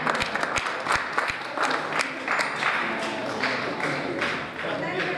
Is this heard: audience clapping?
yes